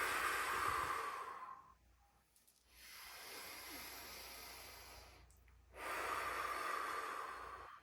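A forceful breath blown out hard in a relaxation exercise comes as two long, loud airy exhales, one at the start and one near the end, with a quieter breathy stretch between them and no talking.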